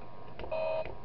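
An overheating warning in the horror video game Five Nights At Thomas's sounds as a single steady electronic beep tone lasting about a third of a second, moderately loud over a faint hum, with clicks before and after.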